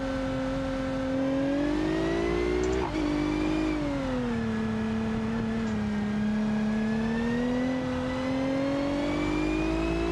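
A car engine in BeamNG accelerating hard around the Nordschleife during a trackday, its loud sustained whine rising and dipping through gear changes with a brief drop about a third of the way in, close and continuous without speech.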